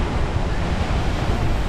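Ocean waves crash against sharp volcanic rocks on the Keanae Peninsula along the Road to Hana in Maui, a loud, continuous roar of surf mixed with wind buffeting the microphone.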